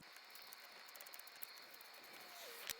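A ratchet turns an 18mm ball joint nut on a Jaguar X-Type or Ford Mondeo, giving faint, rapid, close clicking with a brief metallic clink near the end.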